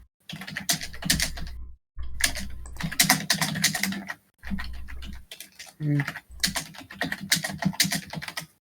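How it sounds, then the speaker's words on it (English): Computer keyboard typing in quick bursts with short pauses, fairly close and clear, with faint background voices during a casual conversation. "Someone's typing."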